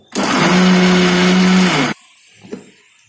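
Kitchen blender whirring loudly to blend beetroot juice with vanilla essence, a near, steady motor drone lasting under two seconds before cutting off, followed by faint clinks and a small knock.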